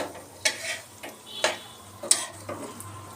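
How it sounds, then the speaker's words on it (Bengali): Small gram-flour battered eggplant fritters, beguni, fry in hot oil at close range, with a soft continuous sizzle broken by several sharp clinks and scrapes of a utensil at irregular intervals. "এখানে আমি এখন একটু গরম গরম বেগুনি ভাজছি ছোট ছোট করে।"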